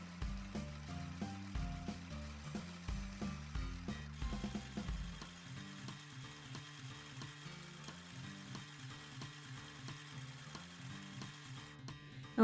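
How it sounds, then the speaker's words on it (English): A mini sewing machine stitches along fabric, a quiet rapid mechanical chatter that runs continuously and slows slightly partway through, close and soft. "here we are at the mini sewing machine. I'm going to start sewing"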